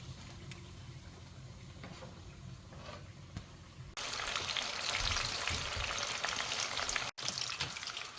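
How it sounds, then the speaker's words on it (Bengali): Onions frying in hot oil for a home-cooked iftar spread, a steady crackling sizzle that starts softer and jumps sharply louder partway through as more are added, continuing close and dense with a brief dropout near the end. "ভাজা ভাজিতে সবার শুরুতে পেঁয়াজগুলো ভেজে তুলছি আমি"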